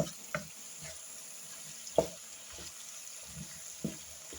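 Zucchini sprinkled with a spoonful of sugar roasting in a pan, giving a soft steady sizzle broken by a few sharp stirring clacks and scrapes, close and moderately quiet with no talk.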